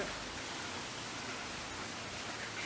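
Heavy rain from Cyclone Nivar pours down steadily, a dense and constant hiss of downpour with no pauses and no voices, close and fairly loud throughout.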